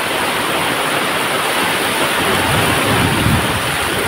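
Floodwater from heavy rain surges through after a wall gave way, a loud, constant roaring rush with no pauses, close and filling the space.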